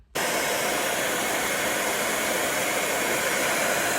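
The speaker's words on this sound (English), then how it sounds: "I gotta heat this up to take off these stickers" A heat gun blows continuously at close range, a loud steady roaring hiss, as it heats old stickers on a C100 bike, with no talking.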